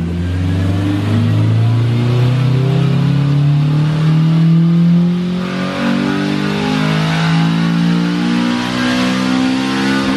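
A Honda Civic Si revs hard on a dyno during a third-gear pull, its engine note climbing steadily and loudly for several seconds before easing near the end, heard alone and close up.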